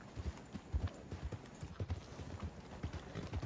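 Horse hooves clip-clop steadily in Red Dead Redemption, a rhythmic run of close, fairly loud hoofbeats on the ground with a brief hint of a whinny and no talk.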